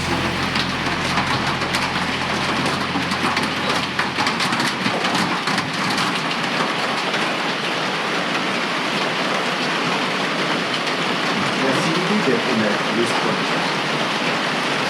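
Steady rain falls during a mountain hike on the Mountains to Sea Trail, a continuous broadband hiss that stays even and fairly loud throughout, with a low rumble in the first few seconds.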